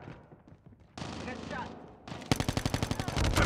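Bursts of rapid gunfire in a Call of Duty-style video game on the Rust map, with a sharp rhythmic volley of shots near the end, preceded by quieter game noise and effects.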